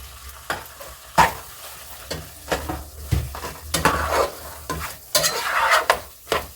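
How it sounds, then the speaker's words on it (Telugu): Ground spice powder is stir-fried in a butter chicken curry: a spatula scrapes and knocks against the pan in irregular strokes over a bubbling sizzle, close and fairly loud, with no voices. "ఈ పౌడర్ వేసిన తర్వాత మంచిగా ఫ్రై కావాలి."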